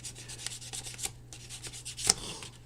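Small plastic model kit part being sanded by hand, a steady light rasping and rubbing with brief scratchy strokes, close up and alone over a low background hum.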